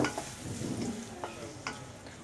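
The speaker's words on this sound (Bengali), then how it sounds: "এখন এর মধ্যে আমি পেঁয়াজ কুচি দিয়ে একটু নরম না হওয়া পর্যন্ত ভেজে নেব।" Chopped onion fries in a pan until soft, giving a soft continuous sizzle broken by a few brief stirring scrapes, fairly quiet and close, with no talking.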